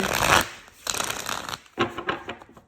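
A tarot deck is shuffled and drawn by hand in three quick bursts of riffling and flicking, close and crisp, with brief pauses between them and no one talking.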